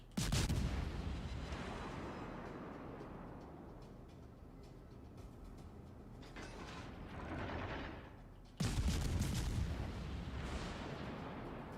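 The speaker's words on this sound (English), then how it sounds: "See, you can get some nice salvos on battleships with the." Naval gun salvos in World of Warships Legends, heavy booming blasts with a long rumbling roll, one at the start and another loud salvo later, set against low mechanical battle noise.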